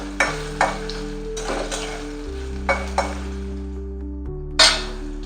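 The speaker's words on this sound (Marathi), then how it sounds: "हे पहा, दोडका फ्राय झालाय तेलामध्ये." Ridge gourd and its scooped-out pulp frying in hot oil in a pan, steady sizzle with a few sharp scraping stirs and clinks of the spatula, close and alone with soft background music.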